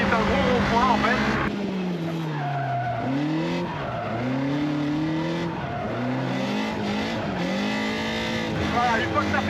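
A car drifts around a large roundabout in a gymkhana drift zone, its engine revving in rising and falling sweeps with tire squeal throughout, close and loud, while a voice talks over it.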